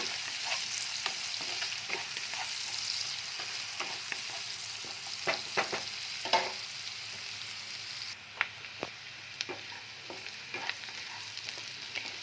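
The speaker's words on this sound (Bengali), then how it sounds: "পেঁয়াজটা গোল্ডেন ব্রাউন না হওয়া পর্যন্ত ভাজতে হবে।" Onions sizzle steadily in a pan with hot oil, a constant hiss broken by sharp scraping clicks as a spatula stirs them, close and alone without talk.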